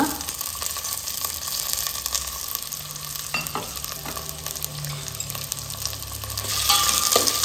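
Onion and green chilli paste frying in a pan, a dense continuous sizzle with intermittent stirring scrapes, close and steady, growing slightly louder toward the end.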